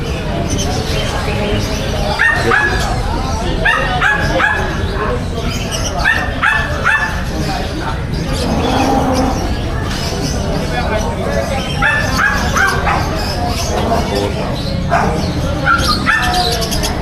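Several dogs bark and yip repeatedly nearby at a pet market, with birds chirping and people talking in the background of a busy, noisy place.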